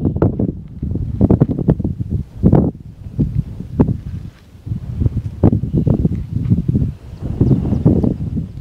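Gusty wind buffets the microphone on an 833-metre hilltop, coming in irregular rough bursts and low rumbles throughout, close and fairly loud with no voices.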